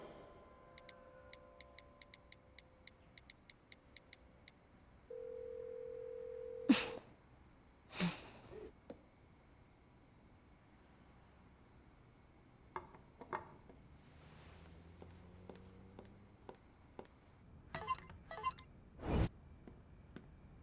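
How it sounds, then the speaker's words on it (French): A mobile phone rings with a steady electronic tone for about two seconds before cutting off, set among faint ticking, a few sharp knocks and soft background sounds, with no talking. "Ton téléphone portable a sonné."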